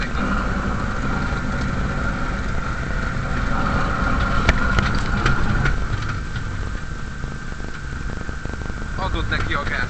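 A motocross motorcycle engine runs steadily on a dirt track, a continuous mid-range drone heard somewhat distant, with a few sharper clicks midway.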